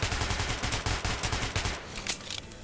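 Rapid automatic gunfire on a firing range in the video game Metro 2033 Redux, a dense loud burst of shots in quick rhythm that stops and leaves a few scattered echoing reports.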